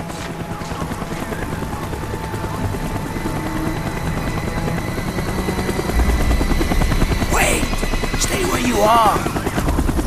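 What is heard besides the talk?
helicopter flying overhead in video game Black Ops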